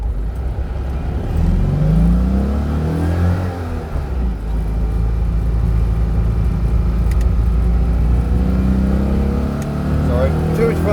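A car engine revs and pulls hard while driving around a roundabout, a steady loud drone with rising and falling pitch throughout, with a voice talking over it.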